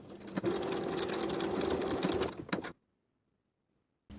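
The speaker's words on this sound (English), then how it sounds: "Sew that short edge with a 3/8 inch seam allowance." A sewing machine runs a short waistband seam edge at a 3/8 inch allowance in one close, steady whir of about two and a half seconds, then goes silent before a brief restart.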